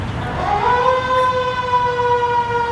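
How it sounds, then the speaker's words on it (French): A fire engine siren wails steadily, its rising tone settling into a sustained loud pitch, heard outdoors in a park with background traffic rumble. "j'essaie de reprendre le paragraphe et la sirène revient"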